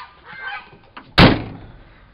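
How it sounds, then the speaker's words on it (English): Turkeys in a farm field give a few faint gobbling honks early on, followed by a sudden loud thunk like a door slamming that rings briefly and fades. "There's the turkeys."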